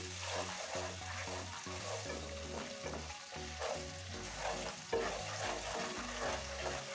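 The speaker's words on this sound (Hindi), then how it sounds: "अब ये एक वन स्पून लहसुन अदरक का पेस्ट है जो मैं इसमें ऐड कर रही हूँ इसे लगभग 30 से 40 सेकंड अच्छे से भूनेंगे" Ginger garlic paste sautéing in hot oil in a pan, a steady close sizzle with intermittent scraping stirs and no speech over it.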